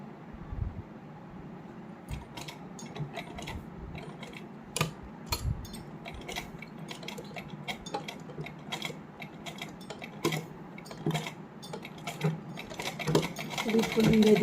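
A sewing machine slowly stitches an inner lining onto a heavily hand-embroidered suit, with close clicking and ticking needle strokes in uneven bursts over a low mechanical hum, while a voice talks intermittently.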